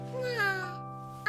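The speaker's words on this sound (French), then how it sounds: "Un chat." Cartoon cat giving one drawn-out, wavering meow close up, with a tonal hum underneath and a brief vocal onset cutting in at the end.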